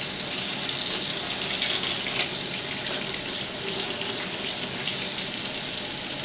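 Water running from a tap over the bristles of a makeup brush being rinsed clean, a steady, close splashing flow that stays even from start to finish.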